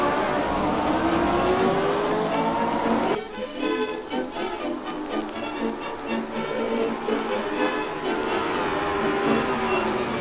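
Several racing cars in the ORL Tasman Series at Pukekohe accelerating out of the hairpin toward Dunlop Corner, a loud continuous engine roar that shifts in pitch as the cars pass, steady and close throughout.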